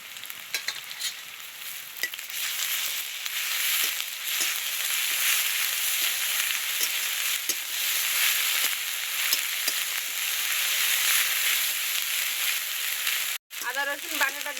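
Ginger garlic paste sizzles and fries in hot oil with chopped onion and whole cumin, a steady bright crackle with occasional stirring knocks and scrapes, loud and close throughout.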